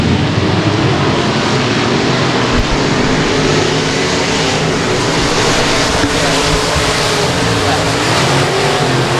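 Race cars at Lonestar Speedway roar back up to speed on a restart, a dense continuous engine drone with no letup through the whole stretch.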